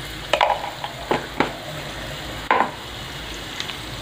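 Andhra-style prawn curry frying in a pan, with salt added: a low background sizzle broken by a few sharp scraping stir strokes, close and moderately loud.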